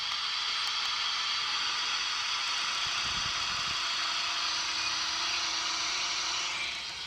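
A ghost box radio sweeping through stations at a rate of 150 in an abandoned Ozarks ghost town gives a continuous hiss of static with faint tonal fragments, steady and fairly loud throughout with no voices.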